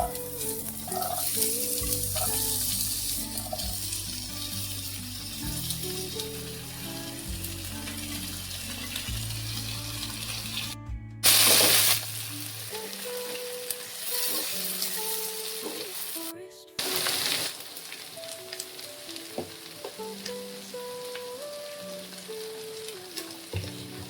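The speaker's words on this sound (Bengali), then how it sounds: "তো সবজিটা মোটামুটি আমাদের হালকা ভাজা ভাজা হয়ে গেছে" Vegetables fry in a pan with bay leaf, cumin and garam masala for paneer biryani, a loud continuous sizzle close up with a few stirring scrapes and clanks, and music playing beneath.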